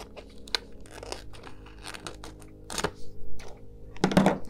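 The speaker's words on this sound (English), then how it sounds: "then we're gonna cut this part off, and I'll just reuse this transfer tape for the other part" Small, old, dull scissors snipping through vinyl transfer tape while a decal is applied to a tumbler: a series of close, crisp crunching cuts and crinkles, irregular and fairly loud.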